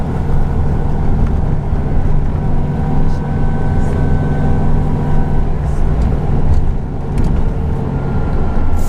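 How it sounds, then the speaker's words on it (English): A vintage VW Beetle engine runs at a steady drone, its cooling fan adding a thin, constant whine over the low rumble, close and continuous throughout with no talking. "And listen to the whine of the engine fan."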